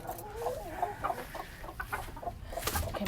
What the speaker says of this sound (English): little black Silky's kind of mad at us. He's the only rooster in here